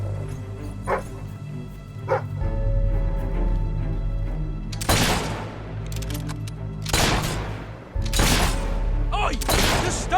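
Gunfire in a Fable 3 fight, several sharp broadband shots in quick succession, loud and close, with a lower rumble of combat behind and faint earlier pops.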